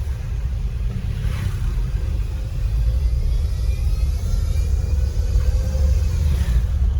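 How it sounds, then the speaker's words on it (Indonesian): A Peugeot Partner engine gives a steady low hum with a droning rumble from a worn bearing, running continuously and close by, slightly louder in the second half. "Suara ngaung ya di mesin itu dari lahar."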